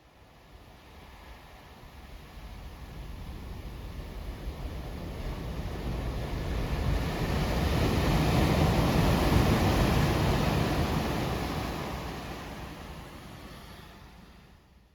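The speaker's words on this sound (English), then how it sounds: "waves rhythmically barraging the D-Day reminiscent barrier" Ocean surf washes onto a black sand beach near Mount Fuji in a steady roar that swells to a peak midway and then slowly recedes, mixed with some wind.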